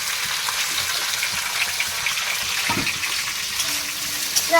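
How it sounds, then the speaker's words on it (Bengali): Okra frying in white oil with cumin in a wok makes a continuous, fairly loud crackling sizzle, with occasional stirring knocks and a faint tonal whine near the end. "কড়াইতে তেল দিয়ে দিয়েছি ঢ্যাঁড়স কেটেই ভাজা শুরু করছি"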